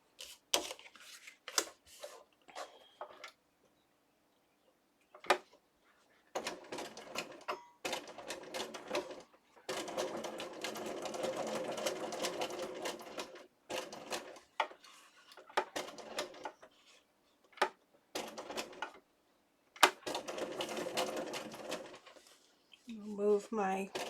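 A sewing machine stitches through paper while making bookmarks, running in short rattling bursts and longer steady runs separated by quiet pauses, with a person talking in between.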